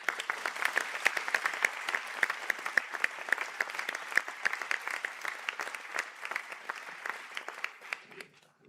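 A conferring ceremony audience at Sligo and St Angela's applauds standing biopharmaceutical postgraduate diploma graduates, even, moderately distant clapping that holds steady and then tapers off near the end.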